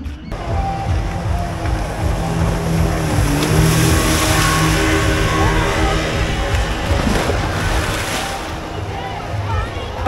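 A speedboat engine drones at an amusement park's ride area at Safina Park in Rajshahi, a steady roar with water wash heard from nearby, with people talking over it.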